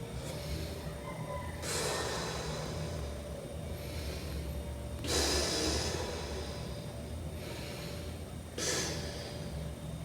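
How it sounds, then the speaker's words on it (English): Three deep breaths spaced a few seconds apart, each a loud, airy rush close to the mic over a steady low background hum, with quiet pauses between them. "first minute, take 3 deep breaths."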